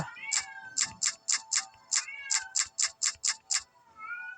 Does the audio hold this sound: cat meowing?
yes